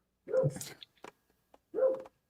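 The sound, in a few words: dog barking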